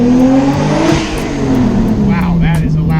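A big-turbo Nissan R33 Skyline engine revs loud and close, a sustained roar sagging slightly in pitch, with brief pops near the end; a voice talks over it.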